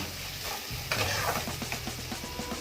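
Onions and capsicum stir-fried in a pan for restaurant-style mixed fried rice: a steady sizzle swells as food is tossed, then rhythmic scraping strokes of a spatula repeat against the pan.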